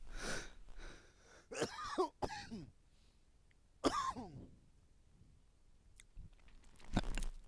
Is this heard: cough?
yes